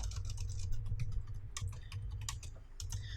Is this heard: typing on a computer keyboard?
yes